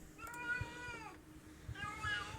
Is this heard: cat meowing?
yes